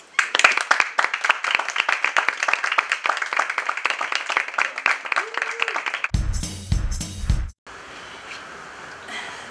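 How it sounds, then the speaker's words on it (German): Audience applause at a cabaret show for a Cologne carnival comedian: dense, steady clapping from a crowd for about six seconds, then an abrupt burst of noise and quieter room tone. "Einen herzlichen Applaus für Volker Weininger."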